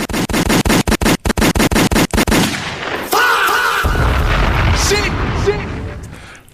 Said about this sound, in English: Let off the gunshots. Let them hear it.